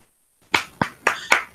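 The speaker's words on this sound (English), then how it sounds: "And one more clap for Mary." Sparse, hesitant clapping for a graduate at a June 2020 graduation: after a short silence, five separate claps land at a steady slow rhythm, close and fairly loud, with no talk.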